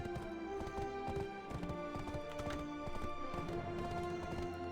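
Horse hooves clip-clop steadily through a Black Desert Online game scene, a continuous rhythmic pattern set among layered music and ambient game sound at moderate level.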